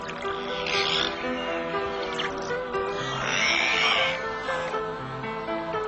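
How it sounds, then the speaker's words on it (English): Beluga whales in Arctic waters, squeezing air through their blowholes, give a run of squeaky whistles, nasal squeals and chirps, layered and overlapping at a steady moderate level throughout. "Beluga whales make unusual noises by breathing in air and squeezing it out through their blowholes."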